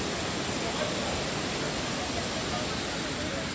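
Double Decker waterfall in Meghalaya roars as a steady, dense wash of falling water, loud and continuous throughout with no pauses.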